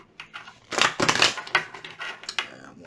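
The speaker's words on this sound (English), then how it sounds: "One more shuffle" Tarot cards being shuffled during a love reading, giving bursts of quick papery riffling and slapping close up, with short pauses between the bursts.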